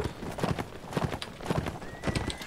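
Horses gallop and neigh in the Mount & Blade Warband video game, with steady, repeated hoofbeats at close range and a whinny breaking through near the end.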